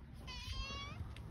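A stray cat gives one drawn-out, fairly quiet meow that rises and falls, heard close against a faint background murmur.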